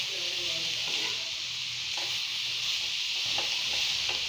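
Vegetables for a momo filling sizzle steadily in a pan while being sautéed, with scattered stirring scrapes against a constant hiss and no talk.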